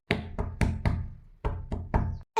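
Knocking on a door at home, seven or eight firm knocks in an uneven rhythm with short gaps, close and fairly loud, with no voices.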